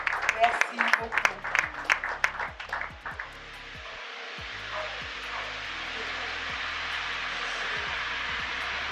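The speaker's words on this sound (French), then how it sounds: "sous nos applaudissements bien sûr" A burst of clapping from a crowd at a closing ceremony for about three seconds, then it stops and leaves steady background hiss.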